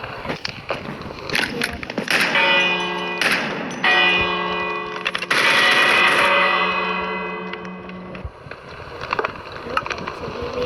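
A Minecraft bell, modded with TaCZ, rings several times in overlapping tones that sustain and fade, with a ringing chime over clattery game noise and a voice talking.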